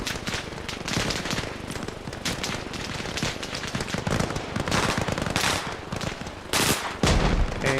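Sustained, dense gunfire in a combat search-and-rescue video game, with rapid machine-gun bursts and scattered shots coming from several directions. It carries on for the whole stretch at a steady, fairly loud level with no talking over it.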